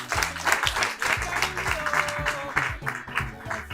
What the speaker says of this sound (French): Si c'est bon, on applaudit quand même d'abord.